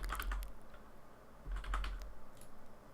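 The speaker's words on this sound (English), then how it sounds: "Hopefully the sound of my keyboard is not too distracting" Quiet, close keyboard typing in two short bursts of rapid clicks separated by a brief pause.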